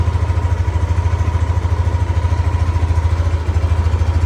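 A repaired motorcycle engine idles close by with a loud, even, rapid chugging pulse that holds steady throughout, with no voices.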